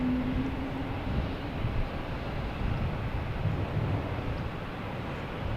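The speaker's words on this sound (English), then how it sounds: "Wheels down, ready to land." Lufthansa airliner landing at Boston Logan Airport: a steady, broad jet roar, moderately loud and continuous, mixed with wind noise at an outdoor spotting location, with a low whining tone fading early.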